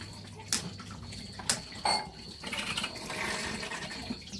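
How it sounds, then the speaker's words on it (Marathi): The water pump of an air cooler is left running, with water trickling and splashing and a few sharp clinks, faint and close, without voices. "कूलर मधली पाण्याची मोटर चालूच आहे."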